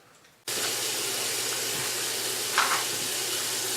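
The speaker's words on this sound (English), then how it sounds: "I have my kitchen sink full of ice, adding some cold water" Cold water running steadily from a kitchen tap into a sink packed with ice, a continuous broadband splashing rush that starts abruptly and stays loud, with a brief brighter spatter partway through.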